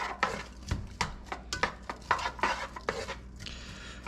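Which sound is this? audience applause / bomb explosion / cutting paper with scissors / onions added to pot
onions added to pot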